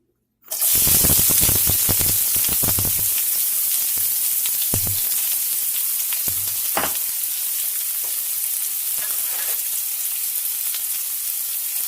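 Onions frying in hot oil for an eggplant salan with keema, starting with a sudden loud sizzle and then a dense, steady crackling hiss punctuated by a few stirring scrapes.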